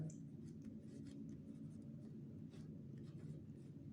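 A pen writes on paper during a geometry lesson. Faint, soft scratching strokes run continuously over a quiet room hum.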